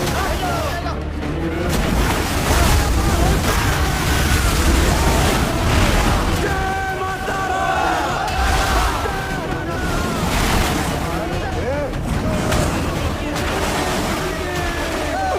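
Loud, steady rushing river water fills the scene with a broad, churning wash and occasional deep thumps, while voices speak over it in a jungle comedy film.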